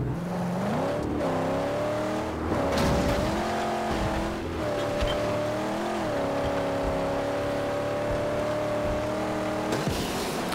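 Car engine from a vehicle in the Mad Max video game, droning steadily and continuously with pitch rising and falling as it revs and shifts, loud and close with no talking.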